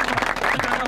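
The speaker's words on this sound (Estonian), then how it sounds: "Kuti, kõigepealt Voovale treeneritele aplaus ka." A short burst of applause for football club coaches, steady clapping from a group with a murmur of voices underneath.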